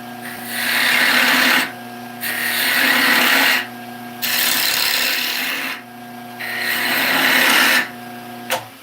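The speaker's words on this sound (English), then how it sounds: "since that knot is there, I switched to my bowl gouge" A bowl gouge cuts into a knotty wood blank spinning on a lathe, giving four long rasping scrapes separated by short pauses, loud and close over the steady whine of the motor.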